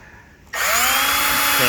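A power drill spins up abruptly and whines loudly and steadily while drilling bolt holes in a car door panel.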